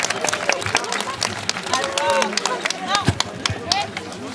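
Audience at a dog training demonstration in Brest applauding, scattered claps and cheers mixing with crowd chatter and voices speaking over the noise.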